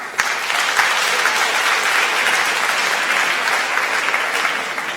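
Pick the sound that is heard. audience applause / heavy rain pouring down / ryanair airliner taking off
audience applause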